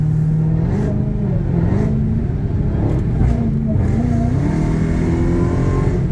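A wide-body Dodge Charger Hellcat Redeye accelerates hard and loudly, its engine pitch climbing through a gear with a brief shift dip, the sustained roar heard from inside the car.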